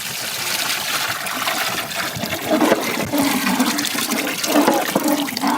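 Tamarind water pours steadily into a cooking pot for a river fish curry, a continuous gushing splash lasting several seconds, close and fairly loud with no voices.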